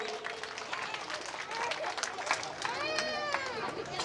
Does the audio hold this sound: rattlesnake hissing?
no